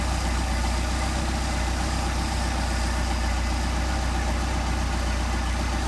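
A Mercedes 190SL with Solex carburettors idles at about 800 rpm after an idle screw adjustment, a steady, even low rumble close to the microphone with no voices.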